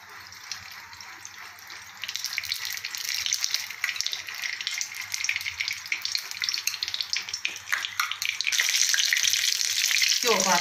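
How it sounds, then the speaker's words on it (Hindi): Homemade desi ghee heating in a kadai for besan peda, giving a steady hiss and crackle of sizzling fat that grows louder and denser toward the end, with no talk over it. "मैं कढ़ाई में गर्म कर लिया, इस घ्यो पावे आप कढ़ाई च।"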